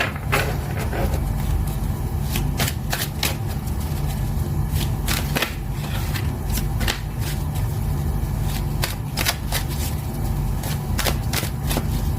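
Tarot cards are shuffled by hand in a flurry of quick, crisp riffling clicks that come in bursts over a steady low hum, close and fairly loud for about twelve seconds.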